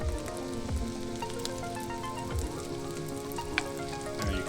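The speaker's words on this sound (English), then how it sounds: "Oh yeah, you can see the bubbling start. Boiling butter." Butter boils in a hot pan, giving a steady crackling sizzle with small popping bursts and a soft bubbling underneath, close and moderately loud.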